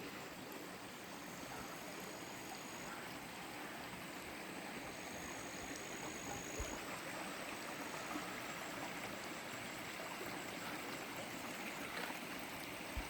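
Water flows steadily in a soft, continuous rush, like a small stream, faint and unbroken throughout with no voices.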